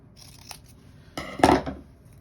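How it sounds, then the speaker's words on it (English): Scissors snipping away excess paper from a small rolled survival fishing and repair kit, a faint cut followed by a louder, crisp crunching snip close up in a quiet room. "we're going to get rid of the excess paper"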